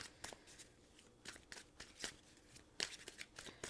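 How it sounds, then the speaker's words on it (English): Close-up riffling of a deck of cards, several quick crisp shuffles with short pauses between them, no talking. "Give it a little bit more shuffle."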